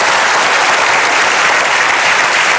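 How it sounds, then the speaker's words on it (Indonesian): A seated audience claps loudly and steadily at a talk show event, a dense, even wash of applause that carries on without pause for the whole stretch. "Kita berikan aplaus dulu dah."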